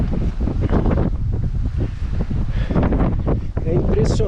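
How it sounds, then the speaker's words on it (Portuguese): Strong gusting wind at a canyon buffets the microphone, a loud rumbling roar that swells and dips without pause. A person seems to speak faintly beneath the noise. "O vento me balançava para tudo quanto é lado."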